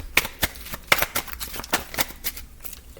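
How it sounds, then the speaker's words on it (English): A deck of cards is shuffled up close, giving a quick series of crisp riffling and snapping bursts with no talk over them. "I tried to shuffle this card when God brought it right back"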